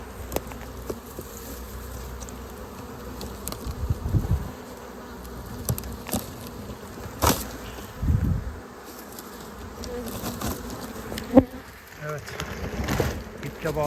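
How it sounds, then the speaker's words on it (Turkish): Honeybees buzzing around a hive outdoors, a continuous close insect drone with occasional louder passes and knocks while someone talks. "Önde olduğu gibi arılar geldi arkadaşlar."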